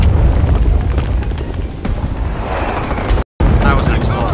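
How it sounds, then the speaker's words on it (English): A loud boom from an explosive blast in a plastic army men beach invasion video game, rumbling broadly for several seconds with a brief dropout near the end. "That was an explosive"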